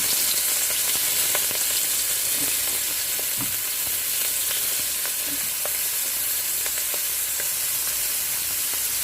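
Battered oysters frying in hot oil, Taiwanese style, giving a steady dense sizzle and crackle with scattered pops, close and continuous without talk.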